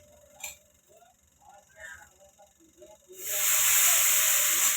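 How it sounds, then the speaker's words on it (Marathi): Quiet clinks and small sounds, then loud sizzling and hissing suddenly starts and stays steady as cluster beans fry in hot oil on a griddle. "गवार आहे ना पहिली तव्यावर आहे ना मी तळून घेणार आहे"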